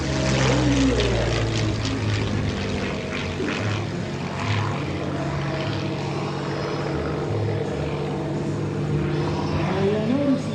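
A P-40 Warhawk fighter flying at an airshow, its propeller engine droning steadily and loudly with shifting pitch as it passes, amid a noisy outdoor crowd with voices in the background.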